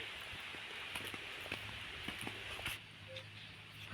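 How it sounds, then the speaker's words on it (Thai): Rain falls outdoors in rural Thailand, a soft steady hiss with scattered drips and faint taps, fairly quiet and continuous with no talking. "ฝนมาอีกแล้วค่ะผู้ชม"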